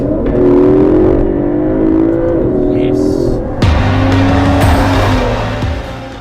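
An Aston Martin DB11 V12 drives past loudly with a sustained engine drone and a tonal whine that shifts as it accelerates, and a sharp jolt partway through as the engine note changes.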